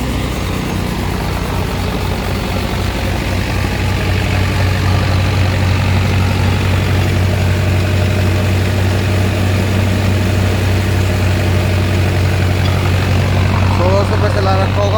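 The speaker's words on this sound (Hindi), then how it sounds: "ट्रैक्टर की जरा भी आवाज़ नहीं बदल रही, ट्रैक्टर मस्त में चला" A tractor engine runs steadily at about 1400 rpm, giving a constant, loud, low mechanical drone with an even throb and no change in pitch throughout.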